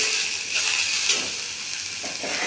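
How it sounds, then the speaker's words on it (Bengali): Potato pieces fry in a pan with turmeric and salt for a small-fish curry, giving a steady, close sizzling hiss with faint stirring knocks underneath. "হলুদ লবণ দিয়ে আলুটা একটু ভেজে নেব"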